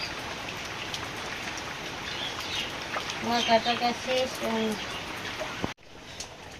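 Steady rain patters across the whole stretch, with a voice briefly speaking over it partway through before the sound cuts off near the end.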